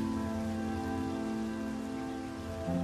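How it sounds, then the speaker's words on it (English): Heavy rain pours in a steady, dense hiss that never lets up, mixed with a sustained droning musical tone underneath. "it was still pouring with rain"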